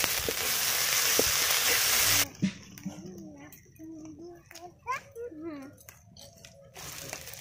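Garlic paste hits hot oil at an outdoor winter picnic cookout, starting with a loud hissing sizzle that cuts off abruptly, then faint spattering with voices and other background sounds.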